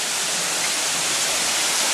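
A waterfall pours in a dense, steady roar along a muddy hiking trail, loud and continuous with no voices over it.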